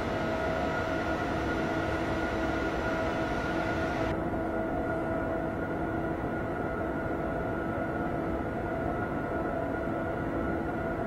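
A BR101 electric train runs in Train Simulator 2015 on a mountain line, a steady continuous rumble with a sustained hum that stays loud throughout and never lets up, with no voices.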